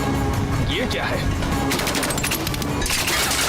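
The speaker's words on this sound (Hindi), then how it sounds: "गोली चलाओ।" Gunfire from a Hindi-dubbed Hollywood action adventure film, a rapid burst of shots during a chase, loud and close, blending with crashing debris and a dense roar of action-scene noise.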